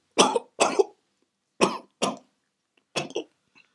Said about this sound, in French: tu as cette toux depuis quelque temps